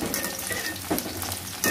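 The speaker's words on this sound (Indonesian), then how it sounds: "Biasanya digoreng sampai kering gini." Dry frying in a pan for young papaya lodeh, with steady broadband sizzling throughout and a couple of brief louder spatters or scrapes near the end.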